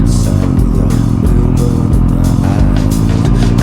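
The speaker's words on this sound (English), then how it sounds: "You know, I love riding this FZ09." A Yamaha FZ09 naked motorcycle on the road, with a loud, steady engine note and wind rumble that shifts slightly as the rider changes throttle, heard throughout with no talking.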